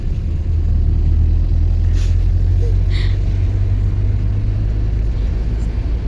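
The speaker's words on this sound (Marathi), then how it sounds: "इतकी ट्रॅफिक आहे अजून सगळ्या मोठ्या मोठ्या गाड्या आहे" Heavy night road traffic with large vehicles, a constant low engine rumble heard from inside a moving car, with a couple of brief passing whooshes and people talking over it.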